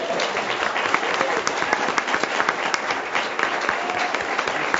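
A school board meeting audience applauds a graduating student headed to Harvard, dense continuous clapping from a roomful of people at steady strength throughout, with individual claps popping out here and there.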